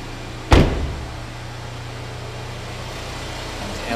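The hood of a used 2015 GMC Terrain with a 2.4 liter engine is released with a single sharp, loud thunk early on, followed by a quiet hum from the engine bay and no talk.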